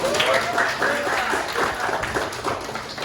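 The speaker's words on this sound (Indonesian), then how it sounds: "Kasih tepuk tangan dong buat" Classmates clap for a student who volunteers to come forward in a classroom, a loud, close patter of many hands in uneven bursts, with a voice briefly audible over the clapping.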